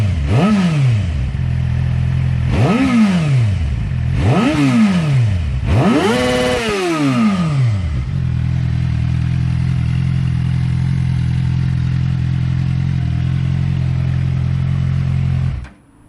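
A stock 2008 Suzuki GSX-R600 motorcycle engine revs sharply four times, then settles into a steady loud idle close by before cutting off at the end.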